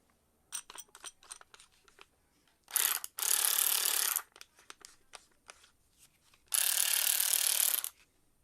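A stiff 1980s Snap-on Black & Decker cordless ratchet clicks through a series of quick, sharp mechanical ticks, then gives two longer, louder bursts of grinding whir as its drive spins, heard close up in a quiet room.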